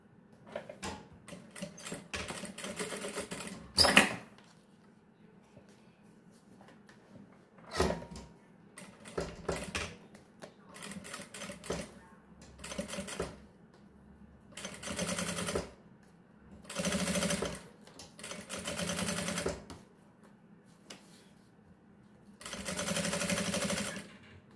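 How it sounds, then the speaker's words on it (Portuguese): A sewing machine stitches a zipper onto synthetic fabric for a pouch, running in short, loud mechanical bursts of rapid stitching separated by quiet pauses. "vou passar uma costura bem na beirinha"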